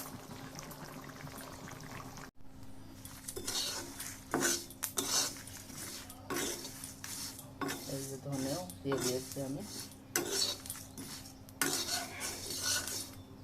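A spoon scrapes and clinks against a pan as a potato and koi fish curry is stirred on the stove, with intermittent metallic knocks and brief speech.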